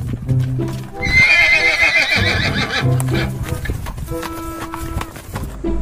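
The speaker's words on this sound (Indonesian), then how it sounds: "ini kuda teman-teman" A horse whinnies loudly nearby, a long shrill neigh, amid hoof clops and rustling farmyard noise, with another shorter whinny following.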